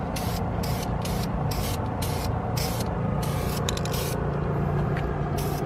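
Aerosol spray paint hissing onto Lexus brake calipers in short, light bursts, about eight to ten quick sprays in a steady rhythm, close and fairly loud over a constant low background rumble.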